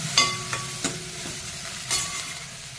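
Chilli powder frying in hot oil in a pan, a soft continuous sizzle with a few stirring scrapes and clinks of a utensil, close and moderately loud, no voices.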